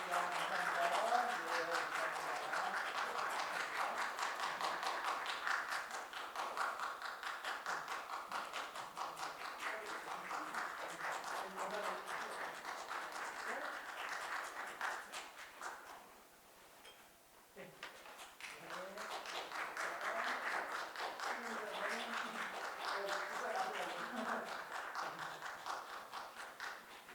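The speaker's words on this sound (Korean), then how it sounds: "일단 박수로 격려하겠습니다" A congregation applauds during a Sunday worship service at a church in New Jersey; steady, dense clapping runs for about fifteen seconds, thins briefly, then swells back to a sustained round.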